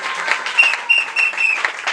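A church congregation applauds in a quick, bright patter of many hands clapping close by, with a voice briefly rising over the clapping.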